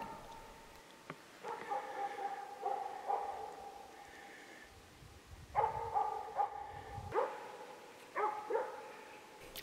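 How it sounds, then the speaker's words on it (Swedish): A Jämthund barks steadily at a moose during a hunt, heard at a distance in bursts of repeated barks with pauses between, faint over quiet forest background. "Det är alltid spännande att se vad det är som hunden skäller på."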